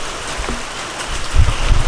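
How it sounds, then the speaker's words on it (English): Heavy rain pours steadily in a flooded Hyderabad neighbourhood as a broad, continuous wash of noise, with heavier low rumbling surges near the end. "It's raining so much here."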